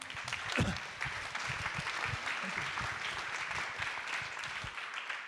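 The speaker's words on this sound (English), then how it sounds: "Another round of applause for François." Conference audience applauding a speaker at a Galileo mobility event, a steady wash of many hands clapping at an even level with some low thumps underneath and no talk.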